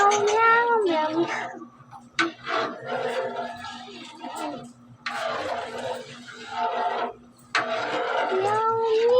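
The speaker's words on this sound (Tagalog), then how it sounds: "Meow, meow, meow, meow." A cat meows repeatedly nearby, rising and falling cries in short bursts over a steady background hum, with some voices and movement around it while food cooks.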